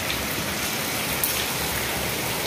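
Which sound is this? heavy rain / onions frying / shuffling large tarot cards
heavy rain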